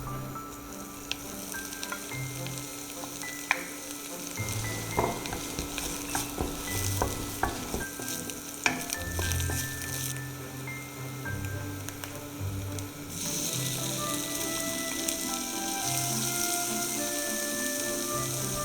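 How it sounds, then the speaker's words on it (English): Sliced ginger and fresh seafood stir-fry in sesame oil in a hot pan, with a continuous sizzle under scraping and tossing sounds from a utensil, and the frying swells louder toward the end. "In a hot pan, pour 2 tablespoons of sesame oil. Stir fry sliced ginger and all the fresh ingredients."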